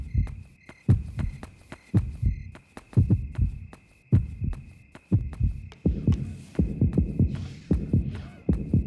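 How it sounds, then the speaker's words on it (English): A pulsing heartbeat warns of nearby danger in the horror video game Yomawari: Night Alone. Loud, low double thumps repeat steadily, with a faint high tone held under the beats and no voices. "you'll know something is close by because of a heartbeat sound that'll play, one that gets more intense the more danger is near"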